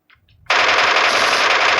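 Sustained automatic-sounding gunfire from an MK14 rifle in the mobile game PUBG Mobile, starting abruptly after a couple of faint clicks and continuing loud and dense without a break to the end.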